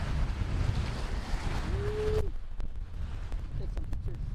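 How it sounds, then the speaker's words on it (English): Strong wind on a beach in Kapaa, Kauai, buffets the microphone with a low roaring rumble, easing slightly partway through, while a brief tone sounds in the middle. "Ooh, it is windy."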